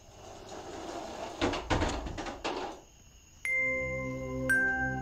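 A door opens inside a house, with a cluster of wooden knocks and rattling scrapes, followed by clear, sustained electronic tones in an otherwise quiet room.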